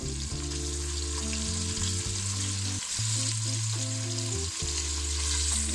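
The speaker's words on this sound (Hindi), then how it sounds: "आलू और बैंगन हमारे फ्राई हो रहे हैं" Potatoes and eggplant frying in a moderate amount of oil over medium heat, a steady, even sizzle running throughout at moderate level, mixed with a constant low steady hum of background noise and no talking.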